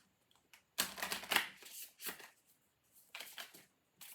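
Rune cards are shuffled close up in several quick bursts of crisp riffling and flapping, separated by brief pauses, with no talking.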